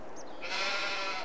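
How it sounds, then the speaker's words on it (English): A single short sheep bleat in Farming Simulator 22 rises clearly over a faint background hum, close and fairly loud, with no talking. "And our sheep's still doing good."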